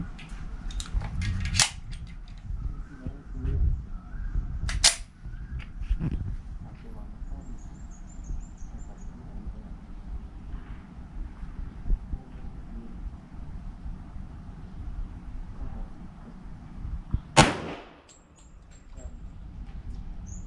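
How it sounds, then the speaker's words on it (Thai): A rifle is fired at a shooting range: several sharp, loud reports stand apart with long gaps between them, over low background rumble and someone talking. "หนึ่ง สอง สาม สี่ ห้า ยิงห้านัดรวดเดียวเลยนะครับผม"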